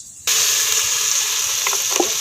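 Chicken hits a hot pan and bursts into loud, continuous sizzling frying, with a few soft stirring sounds near the end.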